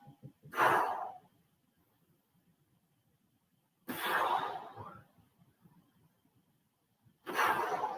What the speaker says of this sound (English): Now, I know you'll hear that breathing, but I'm maybe exaggerating a little bit